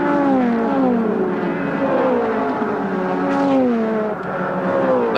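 Nissan and Ford Sierra touring race cars screaming past together at Bathurst in 1991, a loud, continuous engine roar with rising and falling pitch as several cars pass close by.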